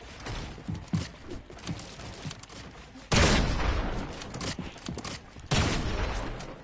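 Gunfire from the Double Pistol in a video game, a few loud sudden bursts that stand out from lower background noise, loudest near the middle and again toward the end.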